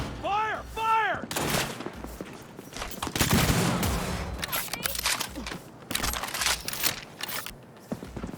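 Cyberpunk 2077 firefight: heavy volleys of gunshots crack and boom repeatedly at close range, with brief voices near the start and scattered shots continuing throughout.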